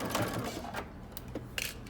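A sewing machine back stitching the start of a dress seam at 2.5 stitch length for Simplicity pattern 8547, whirring steadily in a quick mechanical chatter that pauses and restarts near the end.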